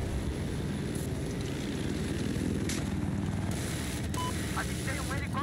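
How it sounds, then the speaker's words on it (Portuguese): An enemy helicopter in the video game Battlefield 4 gives a steady, loud rotor and engine rumble that fills the whole stretch, with brief game effects and a voice call layered over it. "Avistei um helicóptero inimigo"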